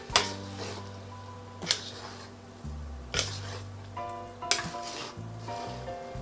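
Eggplant is stirred in a pan with the heat off, a spatula scraping and knocking against the metal in several distinct strokes roughly every second and a half over a steady low hum.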